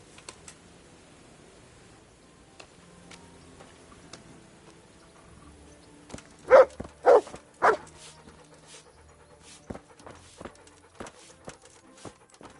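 A dog called Mutt gives three loud barks in quick succession partway through, set against a quiet background with scattered faint clicks and footsteps.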